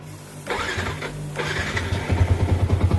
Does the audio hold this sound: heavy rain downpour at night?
no